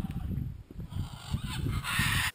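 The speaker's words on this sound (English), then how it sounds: "Look like scarlet macaws, they're gigantic." Large scarlet macaws squawking in the trees overhead, harsh honking calls repeating close and loud, rising into a dense raucous burst before cutting off.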